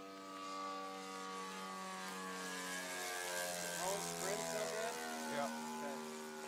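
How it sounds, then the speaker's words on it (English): A Hangar 9 60-size Hellcat RC model airplane flies with a sustained, droning engine tone that shifts pitch as it passes, steady and moderately loud, with no talking over it. "It's a good flying plane right there."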